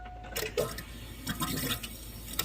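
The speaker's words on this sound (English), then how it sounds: "hear it gurgling. Yeah, she's pumping air." Faint gurgling and bubbling of water moving through a pipe as a pump primes and draws air, irregular and intermittent, fairly quiet and close.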